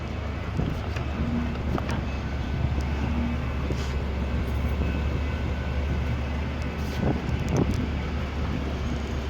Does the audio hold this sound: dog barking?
no